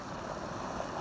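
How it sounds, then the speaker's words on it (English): Water boils on a gas camp stove on a trail, a steady, faint rushing roar with a soft bubbling hiss throughout. "we got boiling water"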